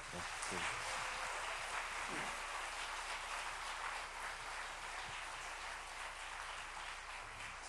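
Audience applause in a church after a cello recital with piano accompaniment, a steady dense wash of clapping holding at an even level throughout with no voices over it.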